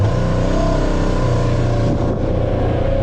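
A budget side-by-side drifting on a dirt track, its engine roaring loud and close in a continuous revving growl with wavering pitch as it circles.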